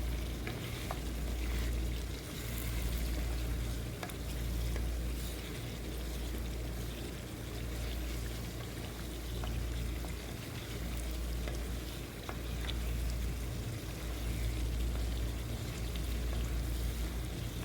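Mutton qorma cooks with yogurt and fried onion added, giving a low, bubbling simmer and soft sizzle with faint stirring that continues evenly throughout.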